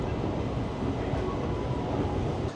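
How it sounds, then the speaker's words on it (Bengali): A train rumbles steadily with a dense, continuous low roar, no voices, building slightly toward the end as it pulls out of Azimganj Junction at night. "আমাদের ট্রেন ছেড়ে দিল আজিমগঞ্জ জংশন"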